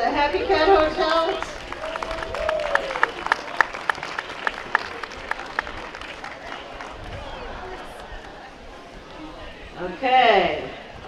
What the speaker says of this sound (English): Round of applause for the Happy Cat Hotel.